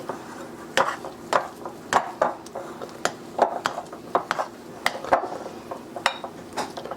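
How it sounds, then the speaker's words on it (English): A whisk clinks against a bowl while stirring jalapeno cheddar biscuit dough, giving sharp, close metallic taps in a loose rhythm of roughly two per second over quiet background noise. "I've never seen a biscuit mixed with a whisk before"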